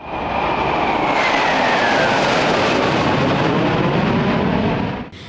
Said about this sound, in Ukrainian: над містом пролетіли два винищувачі